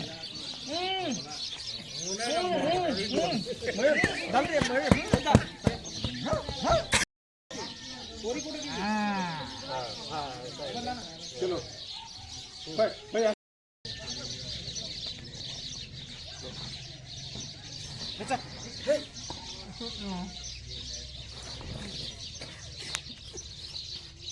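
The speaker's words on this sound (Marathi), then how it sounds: "पाखरांचा किलबिलाट तुम्हाला ऐकू येत असेल" Many birds chirp and tweet in busy overlapping calls, with other voices and background sounds mixed in.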